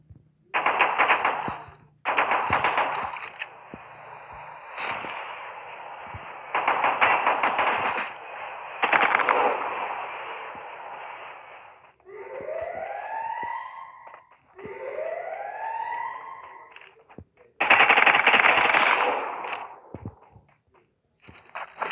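Video game gunfire in bursts of rapid automatic shots, loud and close, separated by short gaps, with two rising whooping electronic tones in the middle and no talk.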